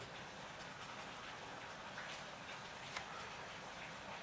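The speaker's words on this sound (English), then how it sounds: "that rain's really coming down now" Heavy rain falling outside as a steady, even hiss that stays faint and constant throughout, with no voices.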